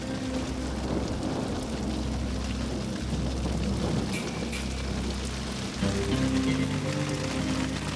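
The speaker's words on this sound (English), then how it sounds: "That's huge chunks of hail." A heavy storm pours rain and large chunks of hail down in the wilderness, producing a dense, steady roar that continues unbroken for the whole stretch with a low constant hum beneath.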